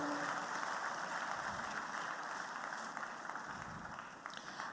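A large audience at the opening ceremony of an investment summit in Lagos, Nigeria, gives dense, sustained applause that fills the hall and fades slightly toward the end.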